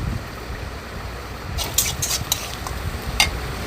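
Onions sizzle steadily in hot oil, with a few light scrapes and clicks of stirring in the second half.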